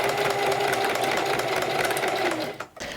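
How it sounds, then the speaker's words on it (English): A sewing machine stitches through thrifted denim jeans in a fast, steady whir close by. It slows and stops near the end with a brief mechanical clunk. "now I will be sewing this to this here along the top and also along the bottom like this"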